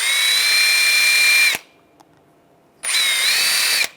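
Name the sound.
wire brush cleaning Mercedes-Benz E350 brake caliper pins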